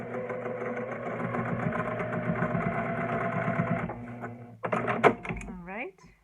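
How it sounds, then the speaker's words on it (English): A sewing machine stitches a fabric lining for a bowler hat, running steadily and close for about four seconds before stopping, followed by brief handling clatter and a short burst of rustling. "you're going to sew all the way down to the bottom folded edges, and you're going to back stitch again"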